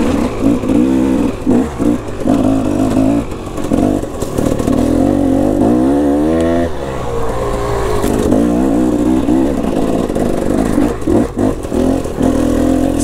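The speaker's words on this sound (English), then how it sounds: "I'm enjoying this lugging ability of 300" A KTM 300 motorcycle engine lugs at low revs in second gear over bumpy terrain, a loud, steady near thrum with uneven throttle swells and occasional clatter throughout.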